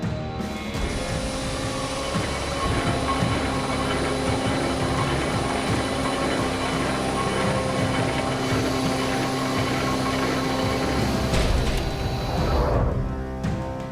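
Steady, loud engine roar from an enormous C-5A Galaxy cargo plane being loaded near Saigon, a continuous dense drone with whine holding level throughout with no talk.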